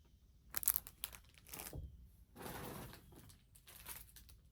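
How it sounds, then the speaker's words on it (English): Plastic packaging crinkles and crackles up close during an unboxing of small items, arriving in several irregular bursts of rustling and crumpling separated by short pauses, with no talking. "sorry for the crinkling"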